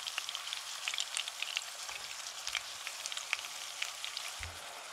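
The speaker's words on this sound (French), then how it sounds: "Et là, on va laisser caraméliser comme ça nos carottes" Carrots caramelizing with honey in a pan make a soft, continuous sizzle with fine crackling pops, faint and steady throughout with no voices.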